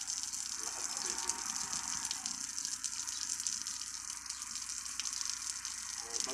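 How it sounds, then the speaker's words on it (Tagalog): Strong, steady hiss of a resort shower in Laua-an, Antique running hard, a continuous loud spray with no pauses. "Yung shower, yun guys, napakalakas, yan."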